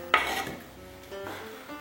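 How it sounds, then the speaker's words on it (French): Chopped onion drops into a saucepan of olive oil with a sharp clatter, a faint stir and scrape. A second, softer knock of the pan follows. "Et allez donc mettre votre oignon dans votre casserole."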